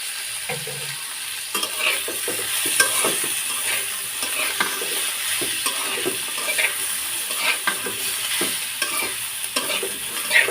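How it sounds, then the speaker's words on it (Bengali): Leafy greens, gourd leaves with beans, are stir-fried in oil in a pan, giving a continuous sizzle with repeated scraping stirs and light clatter, close up and without talking. "তেলটা দিয়ে দেওয়ার পর আমি দুই থেকে তিন মিনিটের মতো এরকম করে ভাজি করে নেব"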